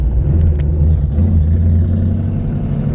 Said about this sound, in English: Got a great sounding engine. I think part of the growl that we're hearing is maybe a small exhaust leak under the hood